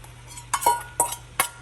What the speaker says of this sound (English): So we'll go ahead and add in our sauce.